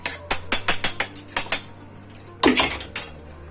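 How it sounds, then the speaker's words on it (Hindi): Roasted chickpeas mixed in a kadai with a spoon: a quick run of sharp metallic clinks and scrapes against the pan, then a pause and a louder rattling scrape, no talking. "तो सारा ये जो मिक्सचर है हम इसमें मिक्स कर देंगे, इस तरह से अच्छे से मिक्स कर देंगे।"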